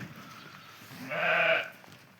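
A single lamb bleats once from close by, a short wavering cry of about half a second against a quiet farmyard background.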